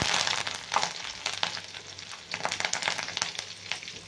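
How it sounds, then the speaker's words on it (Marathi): Mustard and cumin seeds crackle and pop in hot oil, a dense run of sharp spattering snaps over a soft frying hiss, close and fairly steady. "मोहरी छान तडतडली की टाकून घेऊ आपण"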